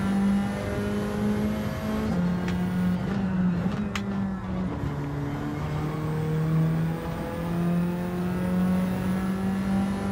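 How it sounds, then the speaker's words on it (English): A race car in Gran Turismo 7 sliding around on hard tyres, its engine droning steadily and loudly throughout, the pitch stepping up and down with gear changes and throttle shifts. "Car sliding around all over the place on these hard tyres."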